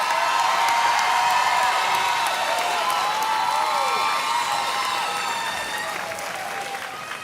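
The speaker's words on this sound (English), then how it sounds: "Absolutely, clap it up for them," An audience at a graduation ceremony applauds the graduates, with loud, dense clapping mixed with cheers and whoops that gradually fades toward the end.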